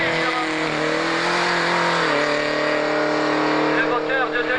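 A 2-litre prototype race car engine at a hillclimb event, loud and close, holding a high strained note that dips briefly and climbs again as it accelerates, with excited commentary running over it.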